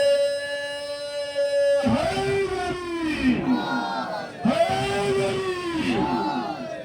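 A packed majlis congregation in Ashiq Nagar bellows religious slogans in unison, several loud chanted waves rising and falling after a brief opening of steady tonal hum, the massed voices close and forceful.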